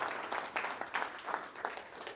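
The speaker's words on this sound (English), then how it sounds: "Give yourselves a round of applause for coming up with the list for service." An audience breaks into applause, a dense patter of many hands clapping in uneven bursts that rises and falls a little over a couple of seconds, with no voices over it.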